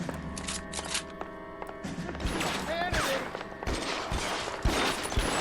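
Gunfire crackles in a shootout in the video game L.A. Noire, irregular bursts of shots scattered over music and game voices, with a voice speaking over the fight.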